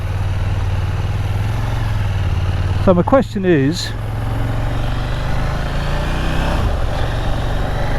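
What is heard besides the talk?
KTM 890 Duke R motorcycle engine running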